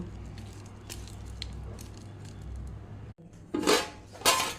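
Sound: mixing grated coconut with crushed garlic

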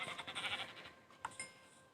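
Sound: sheep bleating in video game

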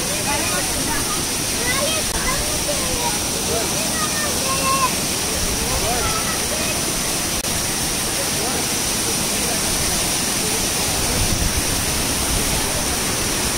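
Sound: waterfall rushing water

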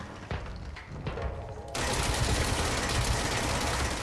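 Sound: gunfire in video game Control

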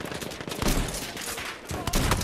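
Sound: machine gun fire in Battlefield 1 video game

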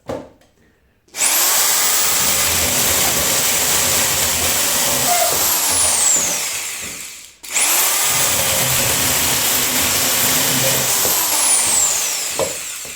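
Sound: old electric drill with saw attachment cutting firewood

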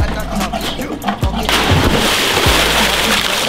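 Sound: splash of a bomb jump into pool water

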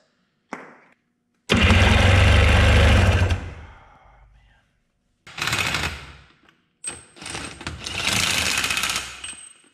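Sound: attempting to start a Wave Runner engine

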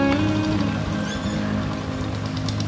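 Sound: rain falling on a rice farm

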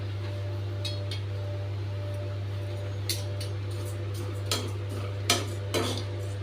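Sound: flattened rice (aval) being roasted and stirred in pan

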